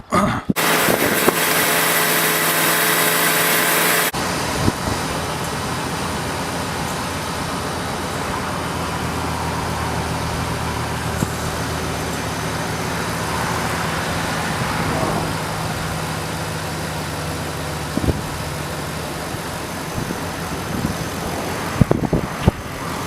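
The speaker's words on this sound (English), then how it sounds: "now for an automatic transmission, you have to start the vehicle" A car with an automatic transmission starts up and settles into a steady idle, the engine running continuously nearby with occasional light clicks and knocks.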